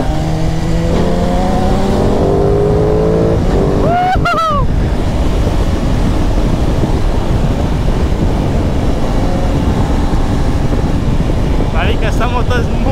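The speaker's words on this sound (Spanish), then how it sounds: "Esta moto es muy sabrosa de manejar." Aprilia Tuono 660 motorcycle being ridden on the road, engine droning and revving early on under heavy wind rush, with a voice speaking over the noise.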